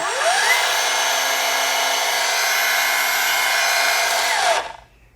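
A Milwaukee M18 cordless saw whines at full speed for several seconds, loud and close, then its electric brake winds the blade down quickly to a stop.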